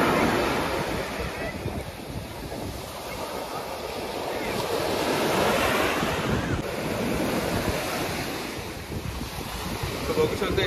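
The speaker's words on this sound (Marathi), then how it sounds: "but one of the scenic ब्युटीज here झुमेरा beach" Ocean waves rolling onto Jumeirah Beach in Dubai, a continuous broad wash of surf with gusting wind buffeting the microphone, swelling and easing without any speech.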